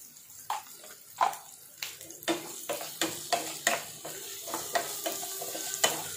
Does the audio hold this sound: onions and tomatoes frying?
yes